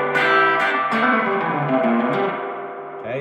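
Electric guitar chords ring through a Strymon El Capistan tape echo pedal set as a reverb, sustained tones blooming and decaying into a smeared wash, with a few picked notes and a fresh strum near the end.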